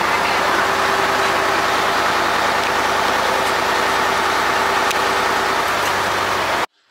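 Boat engine drones loud and steady while arriving at Koh Larn (Coral Island) after a 30 to 40 minute ride, a constant close rumble with wind-like hiss that cuts off abruptly at the end.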